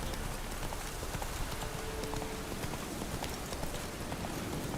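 Hooves of Geralt's horse Roach galloping in The Witcher 3, a steady rapid clip-clop under a dense, noisy wash of ambient sound.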